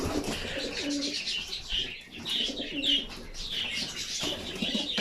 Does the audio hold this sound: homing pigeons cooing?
yes